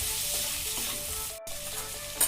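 Meat with turmeric sizzles gently in a pan on low flame while being stirred, a continuous soft frying hiss with a brief gap and a light scrape near the end, no voices.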